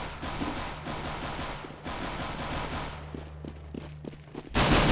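Rapid automatic gunfire in the video game CS:GO, a dense loud burst of shots followed by a few separate single shots, close and prominent, then a sudden loud noise at the end.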